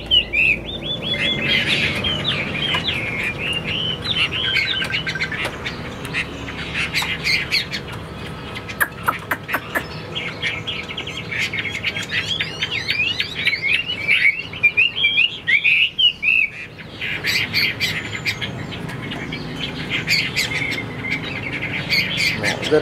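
A caged Chinese hwamei songbird sings loudly and close, pouring out rapid squawks, chirps and whistled warbling phrases almost nonstop, with a brief pause in the middle before the song resumes.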